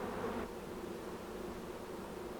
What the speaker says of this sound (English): You get some with a little bit of yellow on them, but mostly ours are black bees.